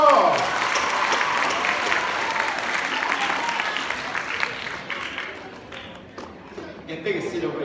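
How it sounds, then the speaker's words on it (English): An audience at a live caricature artist show in Singapore gives a round of applause, loud at first and then thinning into scattered claps, with people talking over it. "Let's give Intan a round of applause."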